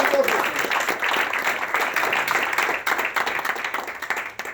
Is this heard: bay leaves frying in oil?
no